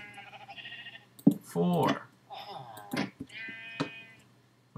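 Minecraft sheep bleat several times in short, wavering cries, fairly close, mixed with a man counting aloud and other game noises.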